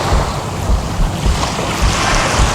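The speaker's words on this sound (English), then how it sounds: "very nice today on the beach" Waves wash onto a beach in a continuous rushing roar, loud and close, with heavy wind buffeting mixed through the surf.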